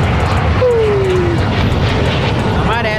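Steady engine drone of a helicopter in Call of Duty: Warzone 2.0, a continuous loud whir with a falling tone sweeping across it, alongside game sound effects.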